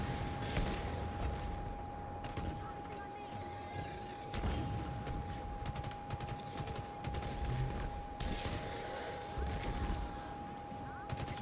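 Rapid gunfire bursts in the shooter game Halo Infinite crackle repeatedly in clusters over a constant electronic tone and game ambience, fairly faint throughout.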